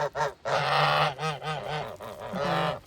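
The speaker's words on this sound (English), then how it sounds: "the pilgrim gander has a pretty deep voice compared to the goose" A pilgrim gander honks loudly and close by in a run of deep, nasal calls, some short and some drawn out, following one another with almost no pause.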